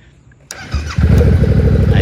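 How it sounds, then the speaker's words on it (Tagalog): A Yamaha MT07 motorcycle engine starting: a click, a short cranking whir, then the engine catches and settles into a steady throbbing idle close by, with a voice speaking over it. "At buhayin natin yung makina."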